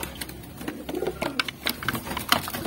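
Pigeons coo in soft, repeated low murmurs near a loft, mixed with light fluttering and shuffling noises, steady and close throughout.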